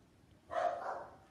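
A dog gives one short bark, a little distant and fairly quiet, against a calm, near-silent room.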